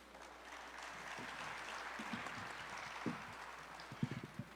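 Faint, distant applause from an audience at a national Ayacucho music congress, a soft wash of clapping with a few louder nearby claps toward the end.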